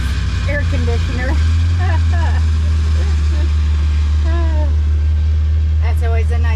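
Tractor engine running steadily during hay season work on an alfalfa field, a loud constant low rumble throughout, with someone talking over it.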